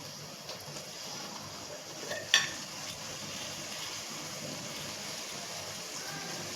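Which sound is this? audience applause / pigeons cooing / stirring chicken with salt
stirring chicken with salt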